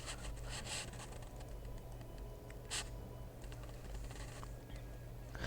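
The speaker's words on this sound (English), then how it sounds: "I'm sorry about the keyboard sounds." Computer keyboard typing, a soft patter of clicks close by, faint and steady with occasional sharper taps over low background hum.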